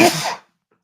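A single loud, close sneeze bursts out and is over in under half a second, then silence follows.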